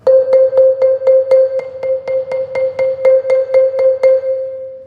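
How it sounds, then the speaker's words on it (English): Uneven mallet roll on a keyboard percussion bar, right hand near the node, about fifteen ringing strokes at a slightly irregular pace, alone and clear, ending in a sustained decaying tone. "that right hand really close to the node is a thin sound, whereas the left hand being right on the center gets a really dark sound"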